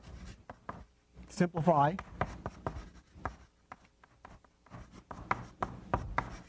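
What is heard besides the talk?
writing on a board during a lecture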